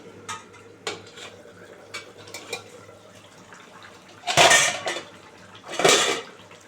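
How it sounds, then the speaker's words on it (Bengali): A spoon stirs egg and onion-stalk curry with potatoes in a pan, giving scattered light clinks and scrapes followed by two louder, longer scraping swirls near the end. "একটু নেড়ে দিই"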